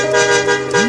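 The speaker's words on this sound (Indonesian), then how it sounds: "Itu jelas sekali katanya bus itu ngasih klakson." A bus horn blares as a sound effect, a single loud, steady, close honk lasting under a second.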